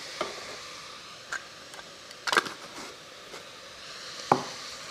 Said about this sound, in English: We're going to give this a quick stir before we add our liquid ingredients